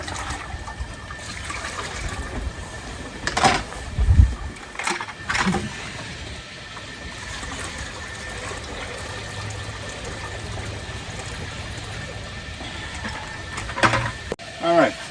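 Maple sap runs into a homemade backyard boiler with a low, continuous trickling and splashing, joined by a few louder knocks and handling noises and someone talking over it.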